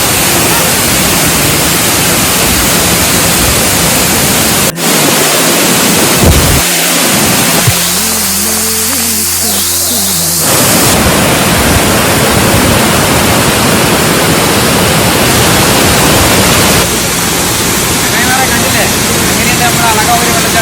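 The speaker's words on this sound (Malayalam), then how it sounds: "അളകാപുരി വെള്ളച്ചാട്ടം സൂപ്പറല്ലേ" The Alakapuri waterfall at Kanjirakolli pours as a loud, unbroken broadband roar that fills the whole scene, briefly dipping in the middle before surging back full.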